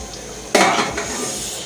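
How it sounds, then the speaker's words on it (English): A metal saucepan clatters down onto a pot of boiling matooke with a sharp clank, followed by a brief rattling settle, up close. "I'm going to be covering them with this saucepan for them to"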